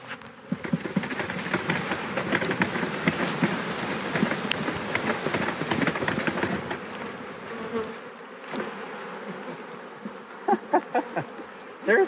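A large swarm of honey bees buzzes loudly and steadily, a dense close drone that fills the scene before thinning toward the end, with a few sharp knocks and rustles.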